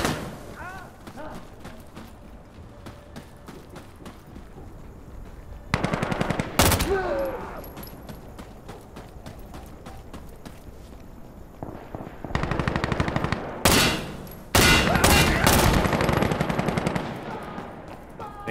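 MP7 submachine gun bursts in the shooter video game Insurgency Sandstorm: rapid, loud automatic fire in several clusters, with other gunfire and game effects in between and no speech.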